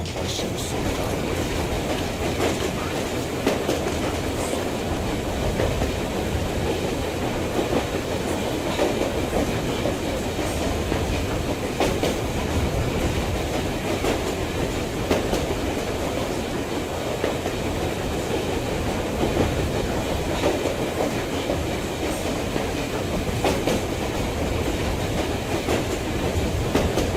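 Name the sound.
rail car riding on tracks in Metro Exodus video game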